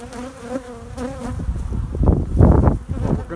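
Bees buzz close around a beehive in cold weather, a wavering drone that swells and thickens toward the end, with no talking.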